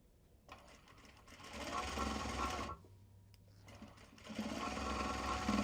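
A sewing machine stitches fabric in two close, steady whirring runs, separated by a short pause.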